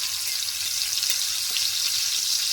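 Pomfret fish fries in oil in a pan, a steady, bright, crackling sizzle that stays even and close throughout with a few soft ticks underneath, no voices.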